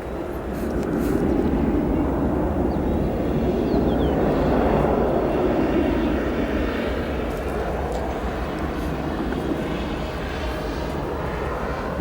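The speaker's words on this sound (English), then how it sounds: "Nice touchdown for that Turkish Flight 5 from Istanbul, now safely on the ground at runway 9 center" A Turkish Airlines jet arriving from Istanbul touches down on runway 9 center at O'Hare, a steady broad roar of engine and rolling noise holding at close range throughout with no voices.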